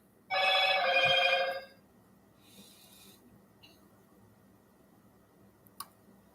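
A telephone bell rings once in a loud, buzzy trill lasting about a second and a half, followed by faint rustling and a single click in a quiet room.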